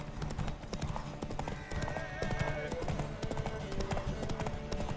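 Horse galloping in a race in the video game Witcher 3, with steady rapid clip-clop hoofbeats close and loud over game music and ambience, plus a brief whinny.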